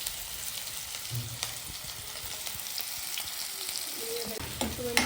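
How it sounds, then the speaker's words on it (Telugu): Chopped onions frying in hot oil, giving a faint, even crackling sizzle with scattered stirring sounds and a few soft knocks toward the end. "ఇప్పుడు నూనె వేడైపోయింది నూనెలు ఉల్లిగడ్డలు వేసేసి పోలించుకోవడమే"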